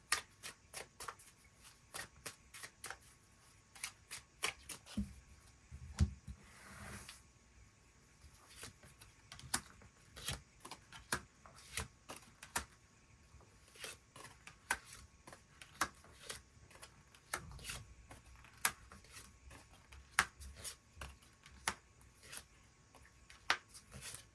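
Tarot cards are shuffled and drawn in a quiet room: soft, close riffling and repeated light taps and flicks of cards, spread irregularly across the whole stretch.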